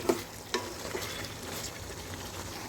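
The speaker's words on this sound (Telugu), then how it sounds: "చికెన్ ఆయిల్లోనే అర్ధము ఫ్రై అయిపోవాలి" Chicken pieces with capsicum frying and being stirred in hot oil during a home chicken fry, giving a steady close sizzle with a few sharper scraping stir sounds, no talking.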